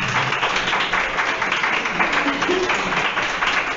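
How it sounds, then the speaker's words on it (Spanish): An audience at a university philosophy discussion applauds a speaker, producing a continuous, even wash of many hands clapping that holds steady for several seconds with some talk underneath. "Demos un fuerte aplauso."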